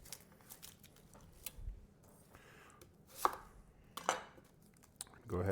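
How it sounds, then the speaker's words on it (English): Onion being sliced thin with a knife on a cutting board for creamy spinach chicken, soft scattered cutting taps and a few sharper strikes, fairly quiet and close, no voices. "Now with our onion, we're going to want to make sure that we chop this nice and thin."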